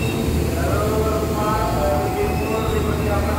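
Commuter train rolling through the busy Jatinegara station, a loud continuous rumble with wheel squeal and metallic hum, close to the platform and steady throughout.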